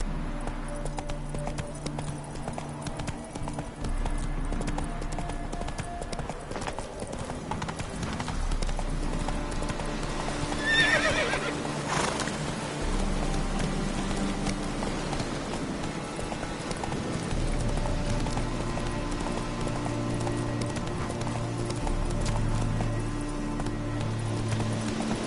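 Roach the horse galloping in The Witcher 3, a fast, continuous drum of hoofbeats at steady volume, with background music and a brief burst of noise midway.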